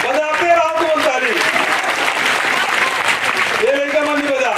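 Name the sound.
crowd clapping at political rally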